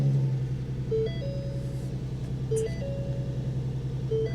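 A car idles steadily at an outdoor salvage auction lot, a low rumbling hum with a repeating electronic chime beeping over it at intervals.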